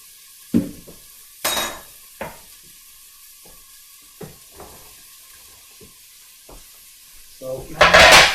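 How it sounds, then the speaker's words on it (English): Celery sautéing in a soup pot: scattered short bursts of sizzle and spoon stirring with a few clinks against the pot, quiet stretches between them, and a louder sizzling flurry at the end. "So now the celery's in. Let that saute for just a few minutes."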